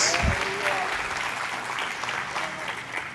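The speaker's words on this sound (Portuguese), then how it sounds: "fica de pé, aplauda o nome de Jesus" A church congregation standing and applauding during a Portuguese-language sermon, a full, sustained round of clapping with a voice faintly under it.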